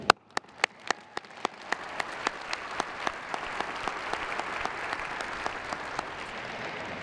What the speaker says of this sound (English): let's give one final round of applause to thank your family, friends, faculty, university staff who supported you throughout your time at WKU